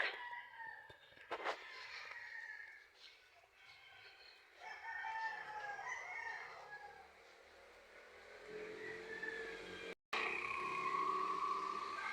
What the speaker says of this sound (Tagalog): Puro tilaok ng manok.